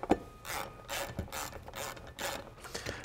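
A hand ratchet clicks in quick repeated strokes while snugging Loctite-coated brake mounting bolts on a Jeep Wrangler with a Wilwood Forged Narrow Superlite 4R front disc brake kit, each burst of clicks close and crisp with short pauses between.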